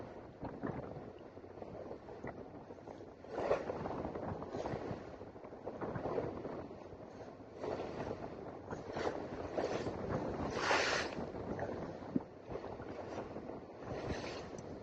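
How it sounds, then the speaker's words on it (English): Continuous gusty wind buffeting the microphone on a boat heading straight into the wind, with rushing water, spray and hull noise underneath, swelling and easing in uneven waves. "So we're going straight into the wind."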